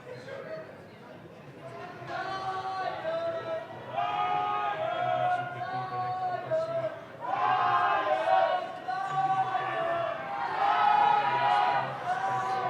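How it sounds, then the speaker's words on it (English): A rugby crowd supporting the Etosha Lions chants in unison during a first division final against Oranjemund Rugby Club, swelling in loud rhythmic waves over steady stadium murmur. "Here we hear the Lions crowd shouting out their chant"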